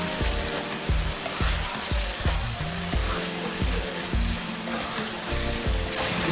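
Whole spices, bay leaves, cumin, black cardamom, cloves and star anise, sizzling in hot oil in a pan, a loud, steady close crackle with rhythmic stirring clatter throughout.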